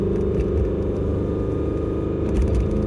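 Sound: Corvette C5Z exhaust note

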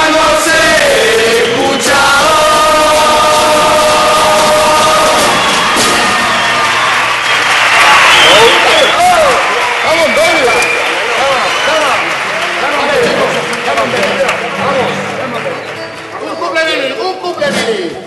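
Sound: audience applause at a carnival murga performance

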